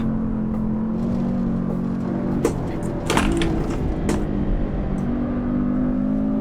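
A Porsche 718 Cayman S flat-six in Assetto Corsa on the Nordschleife drones steadily at high revs, with shifting engine tones and brief sharp bursts of tyre or gear noise over a constant loud hum.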